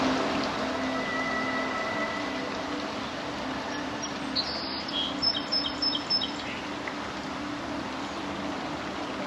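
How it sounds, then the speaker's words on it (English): Small birds chase each other and chirp and tweet outdoors at the Creation Museum, faint and fairly distant, with brief clusters of high calls over a soft steady background hiss and no talk. "Birds chasing"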